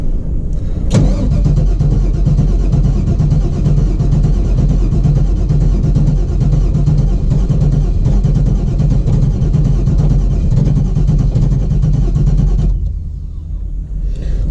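A 1985 car with fuel pump and oil pressure sensor trouble rumbles steadily at a rough idle for about twelve seconds after a sharp start, then drops off abruptly near the end, loud and close with no talking.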